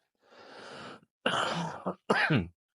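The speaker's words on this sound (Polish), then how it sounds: "Przepraszam za kaszl, ale jestem troszeczkę przeziębiony." A man with a cold coughs and clears his throat in three short bursts, close and fairly loud, with brief pauses between them and no talking.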